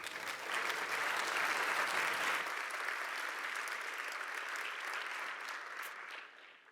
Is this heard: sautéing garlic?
no